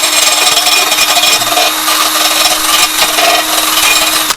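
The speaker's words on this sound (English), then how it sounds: "I've got this wheel here, just a little sanding wheel buffing pad" A small power sanding wheel buffing pad grinds and rubs continuously against cut-out edges of a trail camera security box, a loud, steady abrasive hiss with a constant motor hum underneath.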